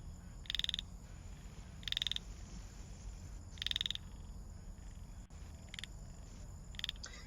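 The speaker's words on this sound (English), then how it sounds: "This is a dark-sided chorus frog." Dark-sided chorus frog calling in repeated short rattling trills, five bursts spaced a second or so apart, faint and distant over a low background hiss.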